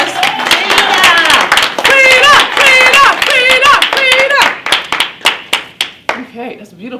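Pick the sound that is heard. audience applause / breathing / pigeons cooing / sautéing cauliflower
audience applause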